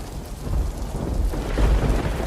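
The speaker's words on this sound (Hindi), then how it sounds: "इतनी तेज बारिश हो रही थी कि उसकी बूंदें अब नुकीली सुइयों की तरह मेरे बदन पर गिर रही थी" Heavy rain pours down on a dark, stormy night, a loud dense hiss of drops with low rumbling thunder rolling beneath and swelling near the end.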